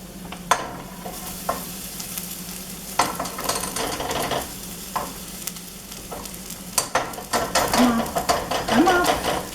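Drained farro being stirred into a hot pan, with a spoon scraping and clinking in irregular strokes over a soft sizzle, close by, while a person talks throughout.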